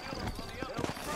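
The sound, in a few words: horse hooves from the video game Red Dead Redemption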